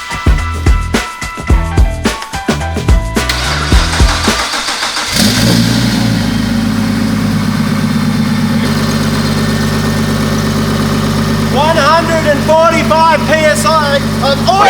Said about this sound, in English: back to firing this motor up